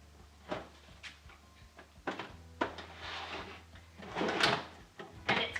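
A wooden drawer on ball-bearing slides is pushed into a cabinet, giving a series of close rolling rumbles and soft knocks as it goes in.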